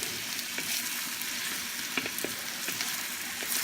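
Fish balls fry with shrimp in a pan for pancit bihon guisado, a steady close sizzle with occasional stirring clicks and scrapes, no voices over it.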